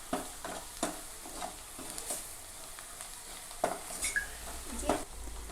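Soft sizzling of spices frying in hot ghee, punctuated by light scraping strokes of a spoon in the pan, quiet and close.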